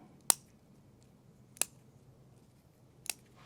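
Three crisp, separate snips as a Chinese elm bonsai branch is cut, evenly spaced and close against a quiet background.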